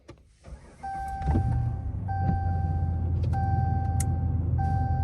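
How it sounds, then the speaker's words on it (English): A Ram pickup truck engine cranks and starts, then settles into a low steady idle, with a repeating chime beeping over it. "I'm going to turn on the truck now."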